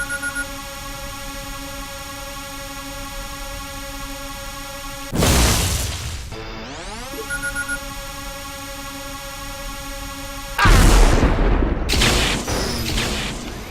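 A weapon in a pre-alpha build of Unreal Tournament fires slow projectiles. There are two loud, spaced bursts of discharge, each followed by a whooshing trail, over a steady tonal background hum. Nobody speaks.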